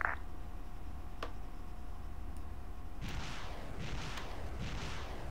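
Artillery fire support strike in the video game Arma, with a few sharp distant ticks early, then from midway several rolling booming impacts in quick succession, moderately loud.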